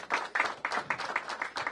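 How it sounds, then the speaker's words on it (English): A handful of people clap for the Deputy Mayor at a city labor agreement announcement with Local 25 and DC United. The clapping is faint and sparse, in steady bursts, and no one speaks over it. "Give him a big round of applause"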